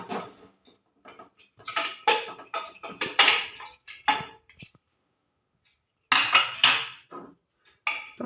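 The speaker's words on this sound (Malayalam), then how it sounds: "വെയിറ്റ് മാറ്റിയിട്ട് നമ്മൾ കുക്കർ തുറന്ന് നോക്കാം." A pressure cooker holding beef curry is opened, with a series of sharp metallic clanks and scrapes as the weight and lid are handled, close and loud, broken by pauses of silence.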